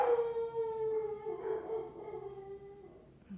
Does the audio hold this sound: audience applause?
no